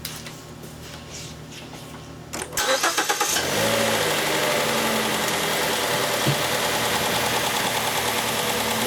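A Mercury or Ford car engine with air pump trouble cranks briefly and then catches, settling into a steady, loud rumbling idle that continues alone to the end, with no talk.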